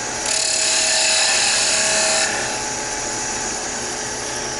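Wood lathe spinning a rolling pin while a tool rounds off its edge, a loud steady whine with a bright cutting hiss for about two seconds that then eases to the motor hum alone.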